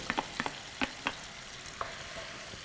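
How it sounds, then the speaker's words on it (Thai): Peeled, diced purple eggplant being stir-fried in rice bran oil in a pan, with faint sizzling and a series of soft scraping clicks from stirring, quiet and sparse. "ใส่น้ำมันรำข้าวลงในกระทะ ผัดมะเขือม่วง"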